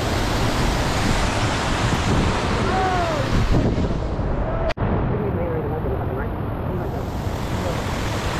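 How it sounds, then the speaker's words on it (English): Water rushing at the top of a waterfall makes a steady, loud, broadband roar with no pauses, close to the listener, and a sharp brief knock partway through. "This is like the top of the waterfall."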